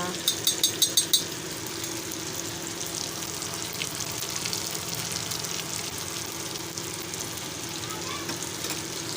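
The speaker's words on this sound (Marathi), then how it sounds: "मच्छी फ्राय झालेली आहे." Toll fish frying in hot oil, a steady close sizzle that runs throughout, with a few sharp utensil clinks near the start.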